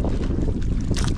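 Strong wind roars steadily on a grouper fishing trip, buffeting the microphone with a low, rumbling rush that never lets up.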